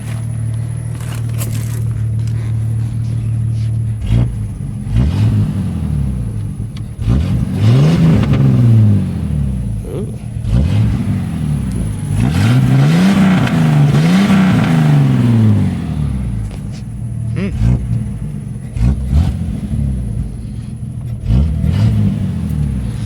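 A 1987 Jeep Cherokee 4.0 engine with a Cherry Bomb muffler idles, then revs up several times in rising and falling surges, loud and close, settling back to a steady idle between revs.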